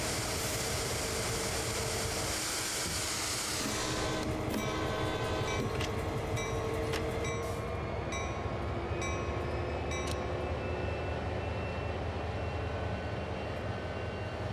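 Freight train rolling in reverse in Train Sim World 2, a steady heavy locomotive drone with mechanical whine and clanks, a broad noisy rush fading out after the first few seconds.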